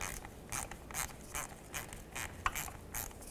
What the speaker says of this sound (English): So I'm going to take my 7mm socket and I'm going to undo this clamp over here.